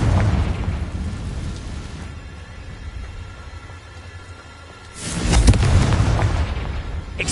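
Confringo fire spell explosions from the wizarding video game Hogwarts Legacy, a loud sustained blast at the start that fades, then a second strong booming burst near the end, with no talk.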